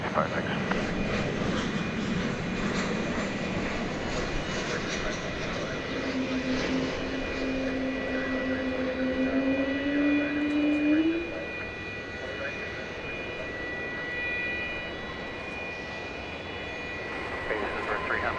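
A Delta jet airliner taking off from a runway at Dallas Fort Worth Airport, a steady, distant engine roar spread across the whole stretch with a rising whine, under faint radio chatter.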